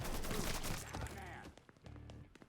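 Rapid bursts of AK rifle fire in a Mafia 3 gunfight, loud and dense at first, then thinning to scattered shots and thuds, with a voice talking over the action.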